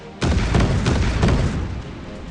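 A missile impact explosion in the Warships Mobile naval combat game lands as a heavy booming blast with a few rolling, pulsing bursts, loud at first and then trailing into a low rumble.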